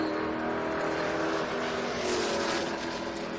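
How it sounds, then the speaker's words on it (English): A 1986 Ford LTD station wagon roars down a drag strip on a low 10-second pass, its engine a loud, steady, continuous blare with no voices over it. "The wagon looking for another low 10-second pass"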